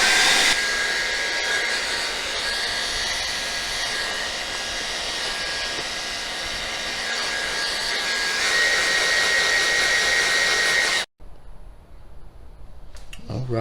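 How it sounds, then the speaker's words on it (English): A hair dryer blows steadily on freshly squeegeed window tint film on a Dodge Charger Hellcat Redeye, a loud continuous broadband whoosh that holds for about eleven seconds, then cuts off abruptly, leaving near silence and faint handling sounds. "next, one extra step is to use the hair dryer on it to heat it up"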